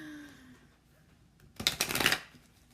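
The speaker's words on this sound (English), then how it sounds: "Go ahead, shuffle it 100 more times." Tarot cards shuffled in a single brisk burst, a quick riffle of card stock lasting about half a second, close and fairly loud against a quiet room.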